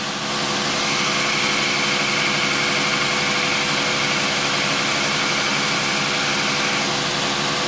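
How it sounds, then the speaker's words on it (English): A 2x72 belt grinder running at 60 hertz gives off a loud, steady whirring hum that holds constant throughout, with a faint repeating tick from the belt. "You should be able to hear that you can still hear that tap, tap, tap, tap, tap"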